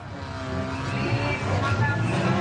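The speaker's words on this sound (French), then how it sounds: "On échauffe les moteurs." Peugeot 205 stock cars sit bunched together at a rodeo-car track, engines revving in a loud, continuous rumbling drone that builds gradually, with several motors overlapping and no clear pauses.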